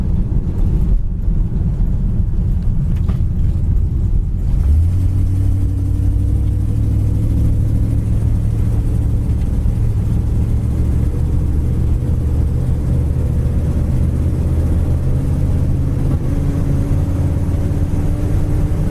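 A 1956 Chevrolet 210 sedan engine runs steadily and loud, settling into a low, even drone after a few seconds of rougher rumble.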